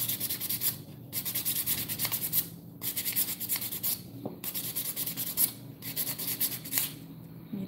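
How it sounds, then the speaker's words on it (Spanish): Someone sands the sharp edge of a tin can by hand in close, gritty bursts of rapid rubbing strokes, each burst separated by a short pause, with no one talking. "A mí me gusta lijar la orillita, que quede bien suavecita."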